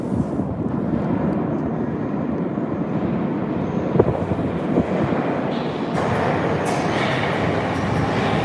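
A St Petersburg metro train on the Red Line runs between stations toward Narvskaya, a steady loud rumble and roar of wheels on rails filling the car, swelling slightly louder near the end.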